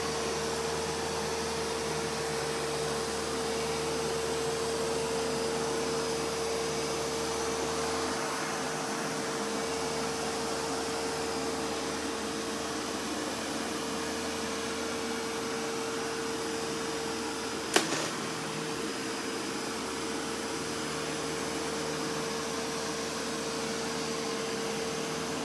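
A Samsung POWERBot R7070 robot vacuum runs over a hardwood floor with a steady whirring drone and a constant tone, the low rumble easing partway through and one brief click later on.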